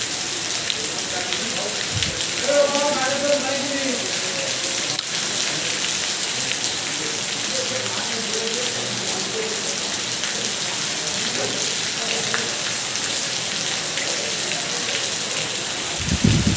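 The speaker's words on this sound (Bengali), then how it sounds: "যে কারণে দেখছেন কত বৃষ্টি" Heavy monsoon rain pours steadily on a flooded truck terminal, a dense even hiss throughout with a couple of low thumps near the start and end.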